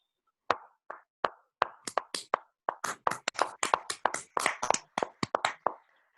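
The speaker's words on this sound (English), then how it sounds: "a big round of applause for 100 days of the CEO Talks" A small group gives a round of applause for an event's hundredth talk, sparse separate claps that quicken into a steady patter of close, sharp hand slaps, with no talk over them.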